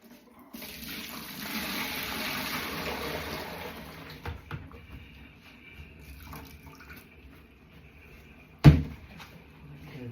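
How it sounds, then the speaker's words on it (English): Washing-up water is tipped out of a bowl into a kitchen sink, a soft gushing pour that swells and fades over several seconds, then a few clinks and a sharp knock near the end. "Let's tip the water out."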